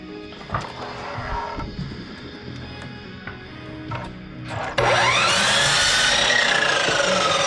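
Scraping and tool noise give way to a loud power saw that starts abruptly and whines steadily through cedar wood, close and sustained.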